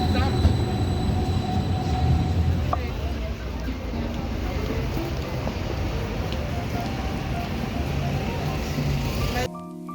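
A tram passing in cold weather in Scotland, a steady rumbling rail roll with faint wheel squeal, fairly close, under occasional talk before cutting off abruptly at the end.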